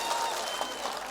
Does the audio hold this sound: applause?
yes